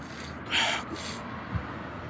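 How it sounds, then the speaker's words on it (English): A short, breathy nasal blast, like someone blowing their nose once, followed by a soft snuffle near the microphone. "I gotta blow my nose, guys."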